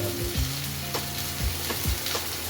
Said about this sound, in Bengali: পেঁয়াজটা ভাজা হয়ে গেছে তেলও ছেড়ে দিয়েছে পেঁয়াজটার মধ্যে এবার এক এক করে মশলা দিয়ে দেবো